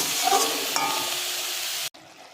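Spinach cooking with spices in a pan gives a steady, even sizzle up close with a couple of brief utensil clinks. The sizzle cuts off abruptly near the end and leaves near silence.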